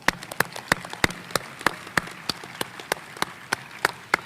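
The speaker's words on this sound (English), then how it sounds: "Let's give them a round of applause." Audience clapping at a university commencement ceremony for fine arts and communication graduates: a steady train of sharp, evenly spaced claps, fairly sparse and moderately loud, with no voices.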